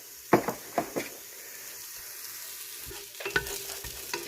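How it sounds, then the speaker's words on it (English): Onions are dumped into hot oil in a pan for Southern collard greens. A few sharp clatters come first, then a quiet, steady sizzle, and a second burst of stirring and sizzling follows. "All right, our oil is heated up. We will dump our onions in there."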